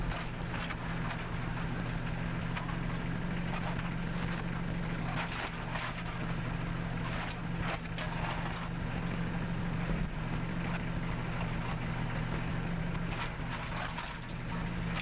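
A homemade heavy-duty aluminum can shredder, driven by a tractor running at idle, chews through cans fed from a cardboard hopper. Under the steady, loud engine hum come irregular crunching and clattering bursts.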